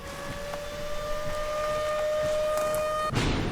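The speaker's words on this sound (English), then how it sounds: "All right, so sirens are going off." A wailing outdoor tornado warning siren holds a steady tone throughout, loud and sustained, with a rumbling thump of thunder near the end.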